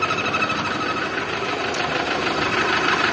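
Mitsubishi Triton engine idling rough with a steady, uneven knocking clatter, close and continuous with no voices.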